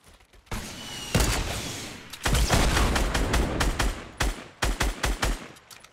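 Gunfire in the Fortnite Battle Royale video game: sustained rapid automatic bursts, then a series of sharp separate shots toward the end, loud and close with no talking.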